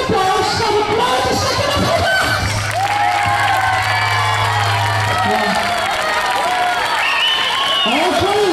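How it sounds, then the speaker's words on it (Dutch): Applause and cheering from a school audience at a primary school event, with children shouting and whooping over a steady, loud crowd noise throughout. "Het eerste is een heel groot applaus voor de grote"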